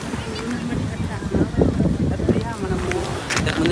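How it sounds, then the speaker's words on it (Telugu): Sea waves wash and surge around a boat, a steady broadband roar with wind buffeting the microphone, and voices talking over it. "బాగా వస్తున్నాయి అలలు."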